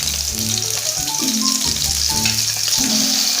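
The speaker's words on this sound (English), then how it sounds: "I'll put them for frying alongside this." Canned salmon sizzles and crackles steadily in hot oil, with a dense frying hiss and occasional low clinks from a pan close by.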